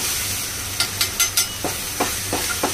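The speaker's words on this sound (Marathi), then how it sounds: "हे सगळा मसाला मिक्स करते. चांगलं तेल सुटेपर्यंत." A spoon scrapes and stirs spice masala with red chilli, coriander powder, salt, amchur, turmeric and chole masala through sizzling oil for chole, with a series of short scraping strokes over a steady frying hiss, close and without talk.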